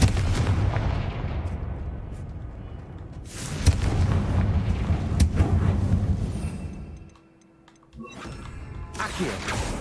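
Spell explosions from the fire-blasting Confringo curse in a wizarding video game, heard as a dense run of booming blasts and rumbling impacts with mechanical clatter, loud and continuous, dipping briefly before another blast.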